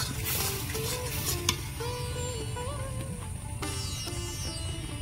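Palm fruit puree stirred in a pan over heat, a low bubbling sizzle with soft scraping strokes of the spoon, quiet and close, running steadily throughout.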